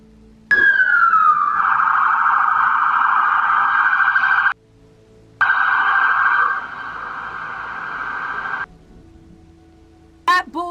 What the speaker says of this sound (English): you look out the window and a siren, it was 2 ambulances and now a cop car